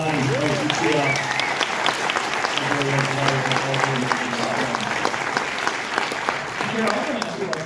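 An audience applauds Griselda Siciliani at a cast interview for the dark comedy Bardo, a dense steady clatter of many hands, with a voice talking over the clapping at times.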